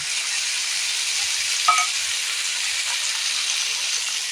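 Spices with ginger and coriander paste frying in a pan, giving a continuous dense sizzle with a brief scrape near the middle, close and even.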